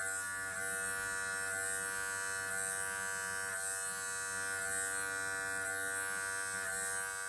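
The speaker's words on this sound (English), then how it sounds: "we still need to use the clipper with attachment number 1 with closed blade" An electric hair clipper hums in a steady, close buzz as it trims hair during a home fade haircut, running continuously with no talking.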